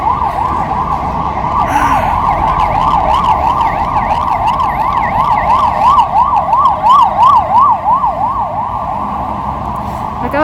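A loud police siren in a Madrid street, wailing up and down in fast regular sweeps close by for the whole stretch, over steady rumbling traffic noise.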